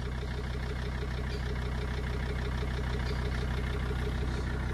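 Jeep Grand Cherokee 2.7 with a straight-through exhaust idling, a steady deep rumble held close and even throughout with no voices.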